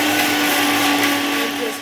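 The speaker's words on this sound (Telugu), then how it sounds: "ఇప్పుడు వీటిని మిక్సీ పడదాం." A mixer grinder whirs loudly and continuously as it grinds roasted cumin seeds for an instant mango pickle, a steady close motor drone that eases slightly at the end.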